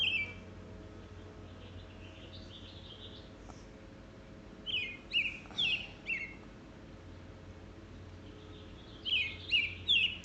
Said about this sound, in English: You have the loudest bird in your backyard.